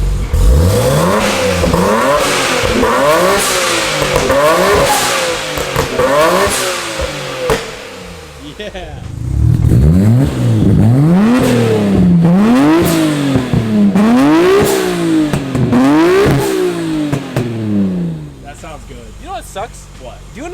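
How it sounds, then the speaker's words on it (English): A Nissan Skyline R34 GT-R engine revs repeatedly while warming up, rising and falling in pitch in rhythmic surges, loud and close, with a brief voice over it. "I'm gonna rev it a little higher in like a minute once it gets warmer."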